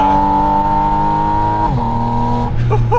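A Porsche 718 Spyder RS flat-six wails loudly from near the airbox, holding a steady high rev before the pitch drops on a shift, then it settles and blips back up on a winding road.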